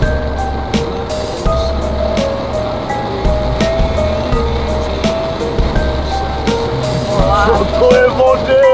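A car drives at night through heavy rain and standing water in the Ústecký region, with a steady rushing wash of spray over a low engine rumble and scattered splashes throughout.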